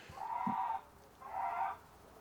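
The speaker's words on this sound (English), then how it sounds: "there's some chickens. My neighbor has some chickens," Two drawn-out clucking calls from chickens, moderately close, separated by a brief pause, with a faint low knock between them.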